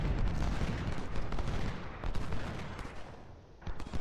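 Musket volley and artillery fire in the Civil War strategy game Ultimate General: Civil War, a dense, continuous rumble of overlapping gunshots and booms with a few sharper reports near the end.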